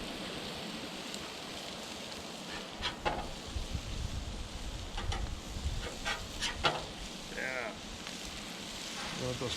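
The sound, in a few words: smash taco burger balls sizzling on Blackstone griddle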